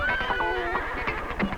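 A frightened horse whinnies out in a road as a car approaches from a side street, the neigh rising and wavering close by over a busy background of traffic and scoring.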